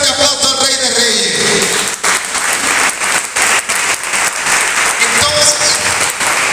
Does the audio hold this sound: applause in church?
yes